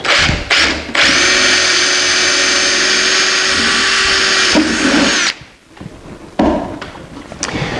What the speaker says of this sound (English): Now I got my drill, which I'll go all the way through into the box.